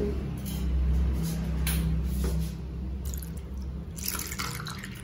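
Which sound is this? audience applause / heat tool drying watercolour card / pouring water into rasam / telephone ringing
pouring water into rasam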